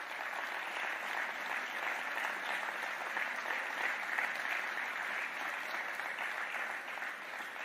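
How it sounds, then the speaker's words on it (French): Steady applause from an audience at a French Socialist Party political rally, a dense continuous clatter of many hands held at an even level throughout, with no speech over it. "Là, vous m'avez applaudi trop tôt."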